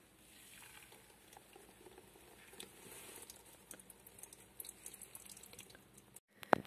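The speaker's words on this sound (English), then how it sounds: "I squeeze the nut bag through the colander and it goes into the pot" Soy milk is squeezed from a nut bag through a colander and drips into a pot, making a soft, irregular patter of drops and trickles close by, ending with a sharper splash.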